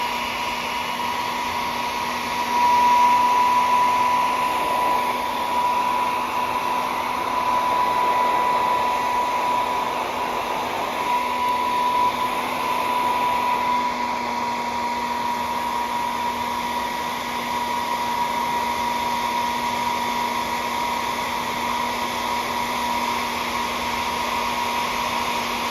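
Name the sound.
hair dryer or heat gun heating a 1989 Toshiba T3200SX laptop part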